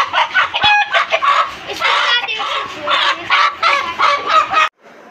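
Chickens clucking and cackling at dusk in a backyard coop, a loud, close, continuous flurry of overlapping squawks and clucks that cuts off abruptly near the end.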